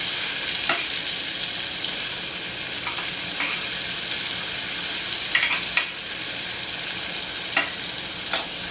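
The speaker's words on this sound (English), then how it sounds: "we're just gonna drop our shrimp in the butter" Shrimp dropped into butter in a pan for a Jamaican-style seafood boil, sizzling steadily with a few sharp clacks and scrapes of a utensil moving them around, no talking.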